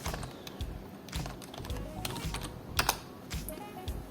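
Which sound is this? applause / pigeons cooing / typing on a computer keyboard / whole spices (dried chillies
typing on a computer keyboard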